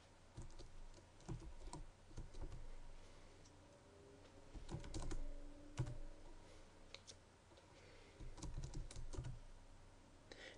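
Quiet typing on a computer keyboard, irregular bursts of soft clicks and taps in a still room, faint and close, with no talking.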